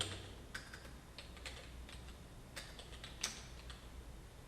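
Someone types a file name on a computer keyboard: soft, close keystrokes come in an uneven rhythm over a faint background hiss, with a few sharper taps, and no one speaks.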